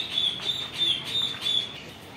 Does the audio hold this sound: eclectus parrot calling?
yes